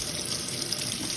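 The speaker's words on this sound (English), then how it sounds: "Let's not pull open this faucet." Water rushes steadily from an opened faucet feeding a prototype micro hydro turbine, a dense, continuous hiss with no pauses.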